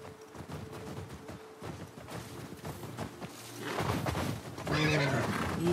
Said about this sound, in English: The horse is Gregory, guys.